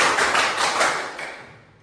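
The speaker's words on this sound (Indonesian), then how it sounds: "tepuk 1, tepuk 2, tepuk 3, tepuk 4" A group claps in a steady counted rhythm during a classroom concentration exercise: a run of sharp, fairly loud hand claps close together that fade away toward the end.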